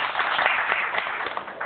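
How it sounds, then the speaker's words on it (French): A brief burst of crowd applause at a gathering, dense clapping held at a steady level with no voices over it. "Vous n'applaudissez pas bien"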